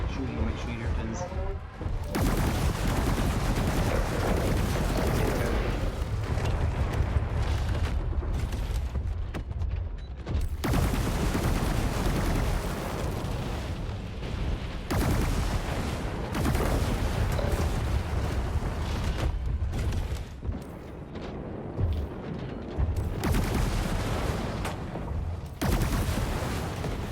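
Dense, sustained video game gunfire with rapid bursts and heavy booms filling nearly the whole stretch, loud and continuous with brief dips, while a player talks over it.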